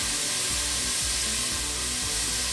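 Chunks of beef for boeuf bourguignon sear in a hot pan with a loud, continuous close-up sizzle and crackle, with no talking.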